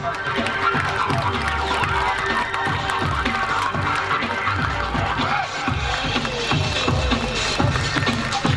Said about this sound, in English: A big round of applause for the first jumper.